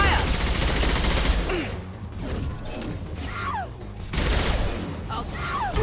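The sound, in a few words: gunfire, video game Mass Effect 2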